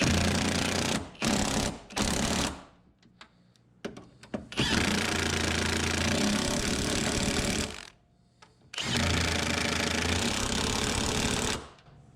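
Power tool tightening the strut top bolts on a 2004 Toyota Camry front strut assembly: loud, rapid rattling impact bursts in several runs of a few seconds, separated by short pauses, with no talking.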